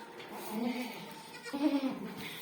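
A goat bleats twice, each call a short, wavering nasal cry, set against a quiet farmyard background.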